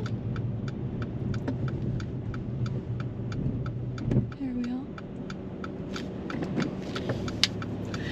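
A car drives along a road and makes a right turn at a set of traffic lights. A steady engine and road rumble holds throughout the clip, with a brief swell partway through.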